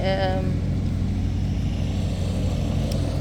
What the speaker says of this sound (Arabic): هيدي الورا بيقص الحشيش، وهيدي الورا اللي بتكبس الحشيش